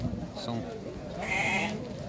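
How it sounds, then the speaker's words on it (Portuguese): Sheep and lambs bleat in a pen at a livestock sale in Dois Riachos, Alagoas, with a short call and then a longer higher bleat, close by, while someone talks over them. "São 6 ovelhas e 9 borregos."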